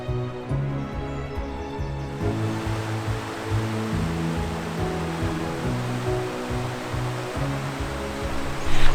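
The River Mole in the Surrey Hills flows in a steady, broadband rush of water. The wash of sound stays even and close throughout, with a low background rumble.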